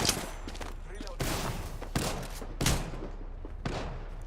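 Apex Legends gunfire, with repeated bursts of shots and impacts in quick succession, loud and close, separated by brief pauses.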